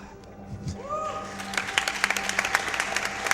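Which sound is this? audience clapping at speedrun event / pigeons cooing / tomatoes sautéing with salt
audience clapping at speedrun event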